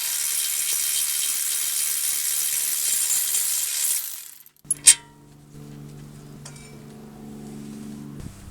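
Bolt removal on a brake caliper bracket of a 2014 Mini Cooper: several seconds of steady hissing ratchet noise, then a pause, a couple of sharp metallic clinks, and a low steady hum underneath.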